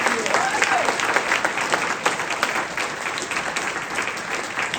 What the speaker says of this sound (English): Another round of applause for our candidates.